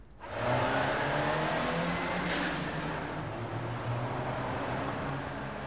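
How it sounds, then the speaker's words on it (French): A van starts off and drives away at the close of a film shot, its engine rising steadily to a loud, continuous roar that holds and then eases slightly as it pulls off. "pour le plan final du départ de la camionnette"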